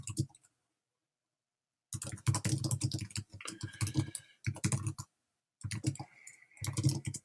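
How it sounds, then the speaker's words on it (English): Typing on a computer keyboard, several quick bursts of rapid, close key clicks separated by short pauses. "Next thing I'll do is I'll just type real quick why I think this is important."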